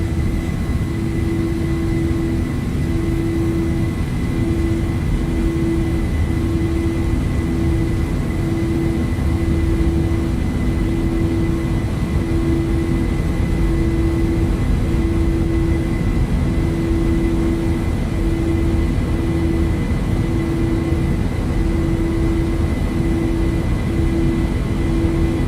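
A steady, unbroken aircraft engine drone from Microsoft Flight Simulator 2024, loud and constant with a faint repeating tonal whine and no talk.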